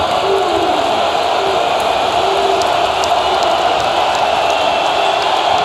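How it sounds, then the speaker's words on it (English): Crowd cheering in a basketball arena during an AAC tournament championship game between SMU and UConn: a loud, continuous roar that stays steady throughout, with no breaks. "Crowd trying to come back"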